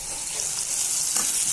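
Boiled banana flower fries in a pan with a continuous bright sizzle and a light stirring scrape about midway.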